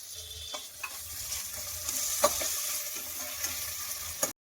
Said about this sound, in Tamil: அந்த எண்ணெயில சூடா இருக்கு இல்லையா, அதனால அந்த இஞ்சி பூண்டெல்லாம் கறிக்கிறோம்பா